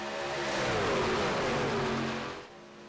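Race trucks at Daytona decelerating toward pit road from high speed, a loud roaring engine drone with descending pitch that drops off sharply near the end.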